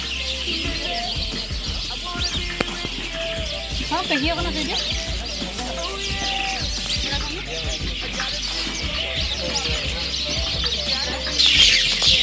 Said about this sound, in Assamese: চৰাই মাত কিমান শুনিছানে